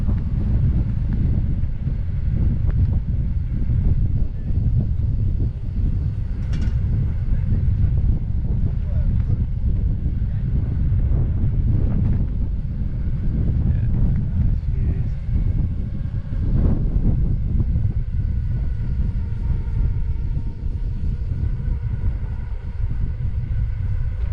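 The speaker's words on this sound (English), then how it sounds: "It's windy, but not so cold." Strong wind buffets a microphone during a bike ride near Panyang, Wenzhou, in a constant low rumble for the whole stretch, loud and close, with no pauses.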